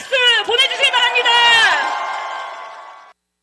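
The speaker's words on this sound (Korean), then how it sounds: "해병대 출신 김규현 변호사와 해병대에게 큰 박수 보내주시기 바랍니다" An audience cheers for a former Marine lawyer and the Marines, with loud whoops and shouted voices overlapping up close before the cheer trails off and cuts to silence.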